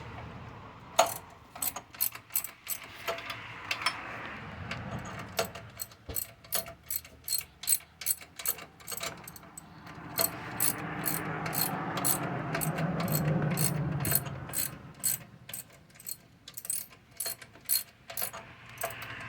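A hand ratchet works an alternator bolt loose on a 2006 GMC Yukon, making close, sharp clicking bursts in quick repeated strokes, with a grinding turning stretch in the middle and no voices.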